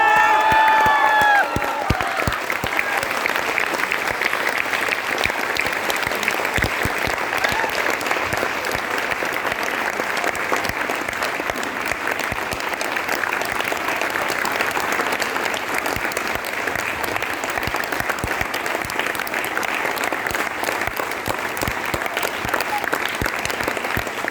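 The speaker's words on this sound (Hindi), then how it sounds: "एक बार खड़े होकर तालियां बजाएं" An audience at a motivational speech gives a standing ovation, a big sustained roar of clapping with cheers and a few whoops, loud and steady for over twenty seconds, with a brief voice at the start.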